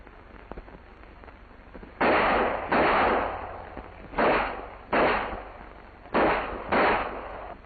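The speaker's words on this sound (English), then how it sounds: "It's one thing to fire at a target that can't shoot back, and it's another thing to hear those bullets whizzing by your ears." Pistol shots ring out in a combat shooting training drill, six sharp reports in an uneven sequence, each with a quick decaying tail, fairly loud and alone on an old, band-limited recording.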